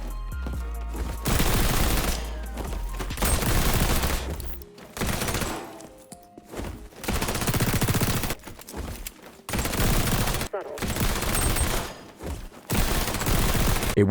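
Rapid bursts of automatic gunfire from the shooter video game XDefiant, several loud sustained volleys separated by brief pauses, with overlapping shots and no talk.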